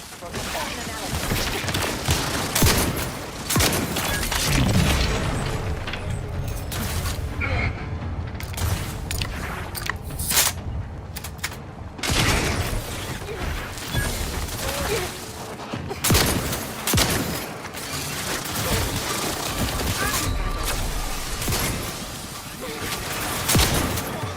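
Gunfire and grenade blasts from combat in The Outer Worlds 2 pile up in a dense, chaotic stretch of shots, booms and crashes. Voices break in over the continuous noise of battle.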